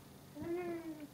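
A toddler's voice imitates a cat's meow, one short rising-falling call, close and fairly soft in a quiet room.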